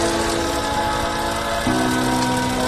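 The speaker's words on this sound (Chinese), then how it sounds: "特别的安静，这也就是标准 N20 的声音了。" A repaired 2013 BMW N20 engine idles smoothly, a steady close hum with a slight shift in pitch partway through, no tapping and no voices.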